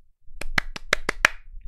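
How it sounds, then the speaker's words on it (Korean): A single person claps six times in a quick, even rhythm, sharp close claps against a quiet background. "저에게 박수를 한번 치겠습니다."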